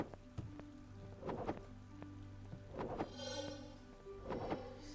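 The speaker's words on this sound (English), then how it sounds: "the rain does not dampen the poison" Steady rainfall in the video game Mask of Mists, a soft, continuous patter with a few heavier drop-like thuds, faint and underneath sustained tonal background music.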